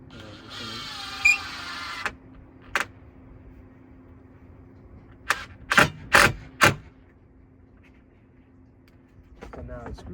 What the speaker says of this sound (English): I'm gonna screw down a nail to where I need it to go